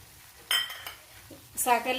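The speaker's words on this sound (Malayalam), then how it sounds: "ഞാനിപ്പോൾ ഇതിൻ്റെ അകത്ത് ശർക്കരയാണ് ചേർക്കുന്നത്, 1 ടേബിൾ സ്പൂൺ ശർക്കര." A spoon adds jaggery to a pot of simmering brinjal curry (vazhuthananga thoducurry), giving a few brief, close metallic clinks and taps against the pot over a quiet background.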